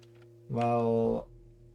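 A single video game sheep bleat, about three-quarters of a second long and clear, over a steady low background hum.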